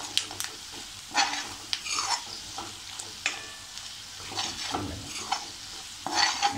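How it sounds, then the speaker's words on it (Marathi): Masala spices sizzle and fry in a pan while a spoon stirs and scrapes at irregular intervals, close and moderately loud. "आपण हा छान परतून घेऊया."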